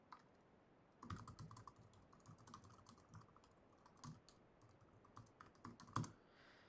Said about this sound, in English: start typing my question